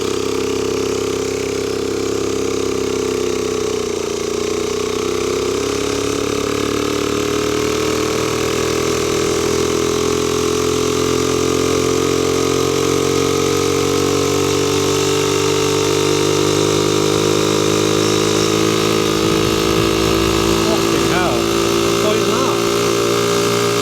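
A Honda PC50 moped engine drones steadily while riding along a road, loud and close with a slowly rising pitch and constant wind rush.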